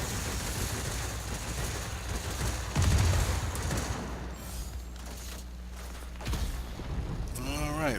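Aircraft guns in the World of Warplanes video game fire in dense, sustained bursts over a constant engine drone, with a few heavier impacts and a brief rising tone near the end.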